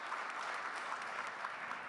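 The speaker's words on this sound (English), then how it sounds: "give a big round of applause for the work they've done to bring us here" Conference audience at COP29 in Azerbaijan gives a round of applause, a short, even wash of many hands clapping at moderate distance, with no voices over it.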